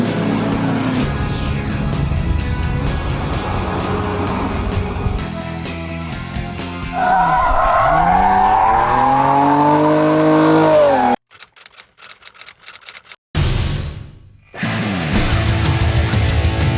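A 2016 Chevy Corvette Stingray V8 roars loudly on track, revving and climbing through gears with rising and falling engine tones, then cutting out in choppy bursts before surging again, no speech.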